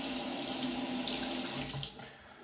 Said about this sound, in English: Let me just rinse off a little bit